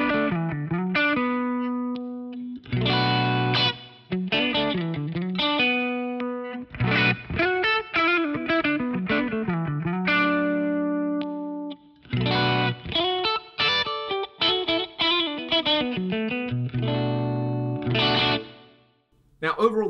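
Electric guitar with humbucker pickups played unprocessed at its starting tone, ringing chords and single-note phrases in short bursts with brief gaps, close and steady in level.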